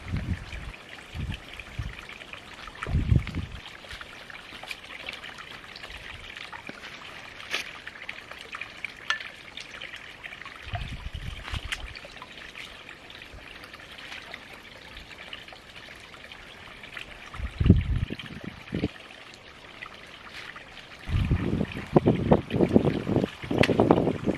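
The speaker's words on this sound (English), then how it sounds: "We've got the overflow pipe from the deposit emptying out down there, so it's going to get plenty of water." Water from the overflow pipe of a rural water deposit trickles and splashes steadily in the open air, with brief louder gushes and low rumbles between stretches of quieter flow; no one talks.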